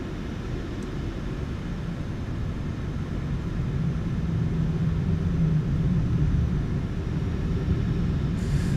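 A PMDG 737-800 airliner taxiing in a flight simulator video game, a steady low engine rumble and whine that holds at a constant level throughout with no voices.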